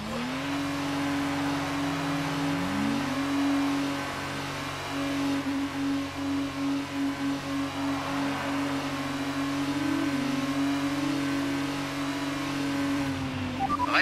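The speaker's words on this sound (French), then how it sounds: "Vas-y, mets les gaz." An F2 car in F1 2019 holds a steady, droning engine note, with the pitch stepping up through the gears as it accelerates. It stays loud and continuous with no talking.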